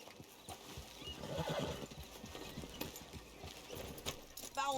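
Horses in Red Dead Redemption 2 gallop with steady hoofbeats and a neigh, riders mounting up and setting off, hooves fairly faint and mixed with tack jingle while people talk over them.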